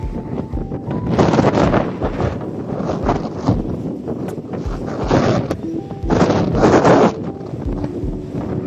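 Gusts of wind buffet the microphone in loud, rumbling bursts that swell and fade over several seconds, with no clear voices.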